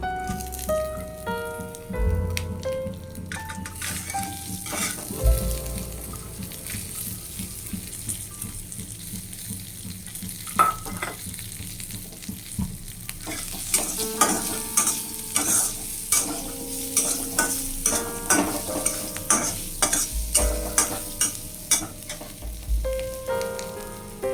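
Green chilli and chopped garlic fry in a pan for an Indian-style purple cabbage dish, with a steady soft sizzle and repeated scraping, clattering stirs that grow busier toward the end.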